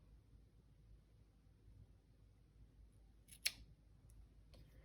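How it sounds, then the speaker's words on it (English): Scissors snip through crochet yarn in one sharp, close cut, followed by a fainter click against a quiet background. "Then I'm going to take my scissors and cut a long tail"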